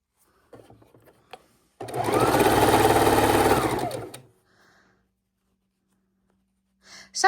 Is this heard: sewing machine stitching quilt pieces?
yes